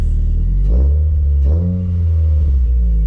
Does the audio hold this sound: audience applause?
no